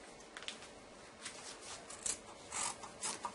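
Sharp scissors snipping through fabric for a cervical cushion, a few quiet irregular cuts and rustles at close range, faint against a low background with no talk.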